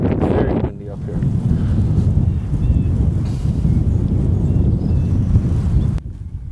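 Strong wind buffets an open hilltop at an orchard in Highland, Wisconsin, a steady loud roar and rumble across the microphone that drops off abruptly near the end.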